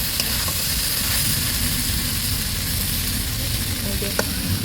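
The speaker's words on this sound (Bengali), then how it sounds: "এই দেখুন কুদরি আলু ভাজা ভাজা হয়ে গেছে কড়াই ফুটে যাচ্ছে" Ivy gourd and potatoes fry steadily in a hot wok, a continuous loud crackling hiss throughout.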